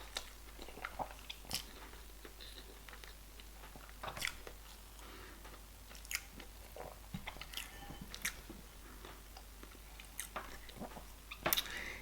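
Close, wet chewing and biting of boiled yam with egg stew and red oil, with soft crunches and squishes repeating irregularly over a quiet background, no talking.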